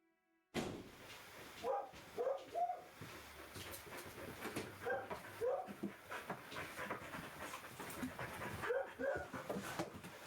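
A dog in Tales from Home pants in quick, rhythmic bursts with a few soft whimpers, moderately quiet and near, going on steadily for several seconds.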